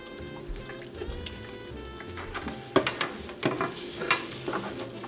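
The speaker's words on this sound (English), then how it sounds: "We're gonna pour a little milk in." Milk poured into eggs cooking in a pan for breakfast gives a soft pour over steady sizzling and frying, with sharper crackles and bursts as the liquid hits the hot surface.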